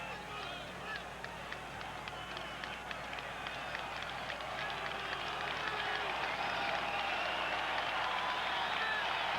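A baseball crowd at a Boston ballpark cheers and claps at a Minnesota game, a steady, distant roar that swells toward the end, while a broadcaster talks over it.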